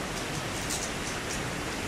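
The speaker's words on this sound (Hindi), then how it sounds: "ये बारिश का पानी इतनी तेज़ी से बह रहा है" Steady, dense rushing of rainwater flowing fast down a canal on the road to Murree, a continuous broadband roar with no pauses, close by and fairly loud.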